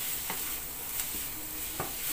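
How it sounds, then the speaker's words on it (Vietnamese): Carrots are stir-fried in a pan, frying steadily with a constant sizzle. A few light scrapes and taps of the utensil come through close up, and no one speaks. "Phải xào cho cà rốt nó chín nha."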